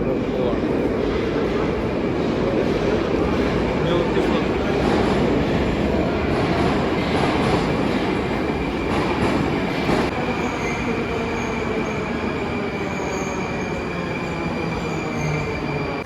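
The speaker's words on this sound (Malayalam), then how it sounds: "അപ്പോൾ അങ്ങോട്ടേക്ക് ഇതേ മെട്രോ കയറാൻ പോവാണ്." Steady, loud rumble of a metro train in motion in Russia fills the whole stretch, with a brief voice speaking over it.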